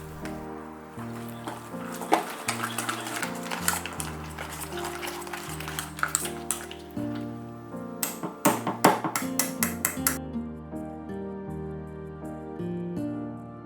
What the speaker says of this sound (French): je reprends ma crème qui a bien refroidi et je la fouette énergiquement pour la détendre et la lisser